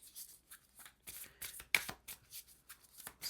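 Tarot cards being shuffled by hand, a series of soft, crisp riffling bursts in an irregular rhythm, close and quiet with no talking.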